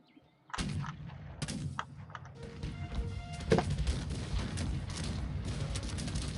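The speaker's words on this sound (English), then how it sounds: "The first shots have been fired." Musket volleys in a battle simulator game with massed Prussian musketeers, scattered cracking shots building into a dense, continuous rattle of distant fire.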